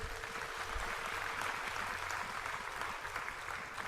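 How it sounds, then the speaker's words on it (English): A hall full of people at a spiritual retreat anniversary gathering applauds in a steady, dense wash of clapping that runs the whole time at an even, moderate level. "Can we have another very big round of applause?"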